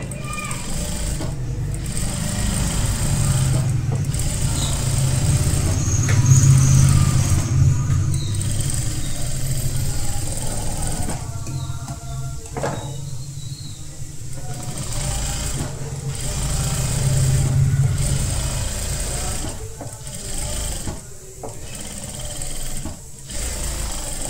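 A sewing machine runs in steady bursts while stitching a princess-cut kurti fabric, its motor hum loud and continuous, broken by short pauses, with a voice talking over it.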